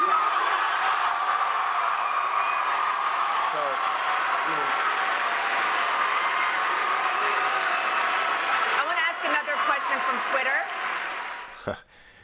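Loud crowd noise from a CPAC political conference audience, a dense sustained roar of cheering with applause and vocal jeering, steady throughout before cutting off abruptly near the end, with a few voices audible within it.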